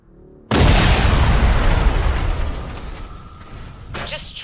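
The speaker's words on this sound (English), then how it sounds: "Explosion." A sudden loud explosion in the Red vs Blue series bursts after a moment of near quiet, then its heavy roar slowly decays, with a brief metallic rattle near the end.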